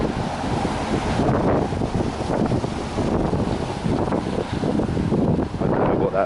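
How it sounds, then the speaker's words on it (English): Gusty wind buffeting a microphone outdoors on a high street, a loud continuous rumbling roar with surging bursts and no clear speech over it. "A bit windy here today though."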